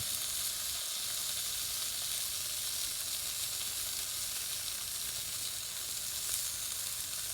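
Tri-tip gristle fries on a charcoal barbecue grill smoker, giving a steady, close, unbroken sizzle and hiss of fat cooking, with no talking.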